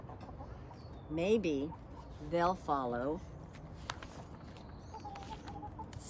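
Hen-like clucking and squawky calls come in a few short bursts, close by, with a person speaking briefly in between and faint rustling around.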